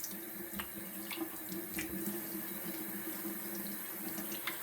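A bathroom tap runs steadily into a sink while someone rinses their face after a wet shave, with a constant close water hiss and small splashing accents throughout.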